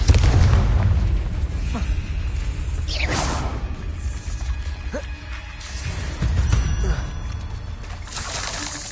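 A Confringo blasting spell explodes in a Harry Potter video game, heard as booming bursts and crashing impacts amid dense spell effects and clattering combat sounds throughout.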